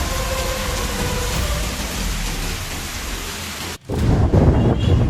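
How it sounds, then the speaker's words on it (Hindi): Heavy monsoon rain pours in a dense, steady roar, then a sudden break gives way to deep rumbling thunder under the downpour. "कितनी भीषण बरसात हो रही है भाई"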